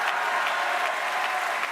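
A crowd applauds Martine Aubry's speech with dense, steady clapping, loud and continuous for a short stretch.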